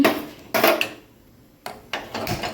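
A cooking pot of rice set down on a home kitchen stove, a few sharp metallic clanks and scrapes in separate bursts with quiet gaps between them, close and fairly loud.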